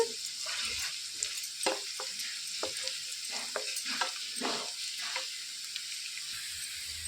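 Onions fry with a pinch of salt in a pan, a steady sizzle running throughout with repeated soft stirring scrapes and clicks at an uneven rhythm, close and moderately quiet.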